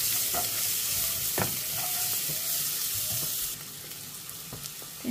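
Beans sautéing in a pan seasoned with saffron and Bahian spice mix, a dense sizzle with a few clanks and scrapes of a spoon, the hiss easing somewhat toward the end.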